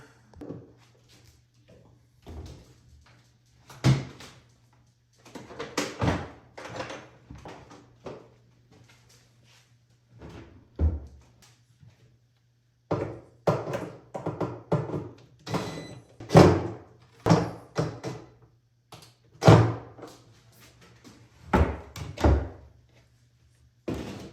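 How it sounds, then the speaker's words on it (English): A cabinet door is being refitted onto a modern-style aquarium tank stand: a series of loud, close knocks, thunks and clunks that come in irregular bursts with quiet gaps between them, and no talking. "Let me get this door reinstalled."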